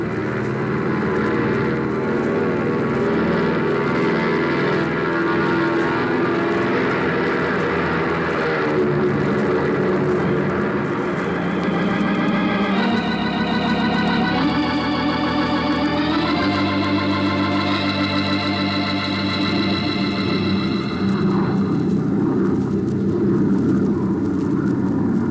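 A propeller airplane takes off in an old radio drama sound effect, its engine roaring loud and steady and rising in pitch as it gathers speed, with no voices over it.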